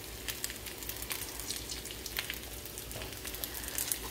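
Oil hits a pan of white rice and sizzles with a soft, continuous crackle, fairly faint and steady, with no talk over it.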